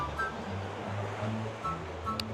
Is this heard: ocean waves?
yes